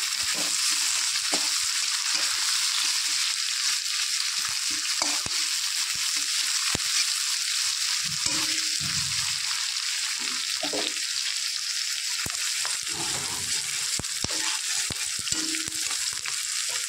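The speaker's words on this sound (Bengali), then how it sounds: "পেঁয়াজগুলো একটু হালকা করে ভেজে নেব" Chopped onions frying lightly in hot oil in a pan, a steady close hiss and crackle throughout with occasional soft stirring scrapes, no voices.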